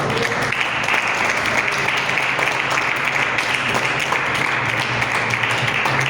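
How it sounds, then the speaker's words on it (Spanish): Steady applause from a church congregation, a dense continuous patter of clapping that holds at even loudness throughout. "Denle un fuerte aplauso al Señor."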